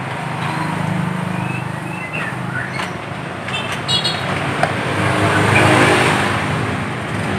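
A motorcycle engine runs steadily after a kick-start, a loud continuous mechanical drone that swells slightly toward the end, close to the listener.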